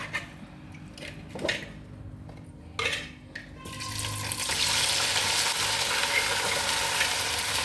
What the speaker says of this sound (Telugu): మనం చికెను ఫ్రై చేసుకుంటున్నాం